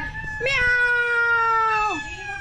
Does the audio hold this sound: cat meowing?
yes